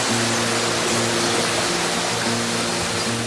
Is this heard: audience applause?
no